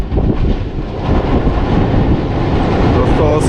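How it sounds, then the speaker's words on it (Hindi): Pakistan Express passenger train led by an HPU20 locomotive rolls past near Alexandra Bridge over the Chenab River, a loud, steady rumble with rail clatter filling the whole stretch, close and continuous. "सामने से HPU20 लीड कर रहा है 46 टाउन पाकिस्तान एक्सप्रेस"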